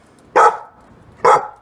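A pitbull barks twice outdoors in the snow of a backyard, two loud, close, sharp barks about a second apart with quiet between them.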